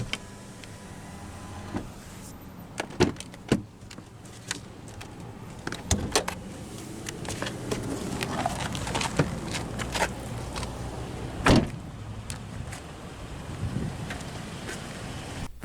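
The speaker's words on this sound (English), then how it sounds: "now we'll roll down the driver's window" The driver's power window of a 2017 Hyundai Elantra Limited hums steadily while rolling down, with scattered clicks and knocks and some wind noise in the background.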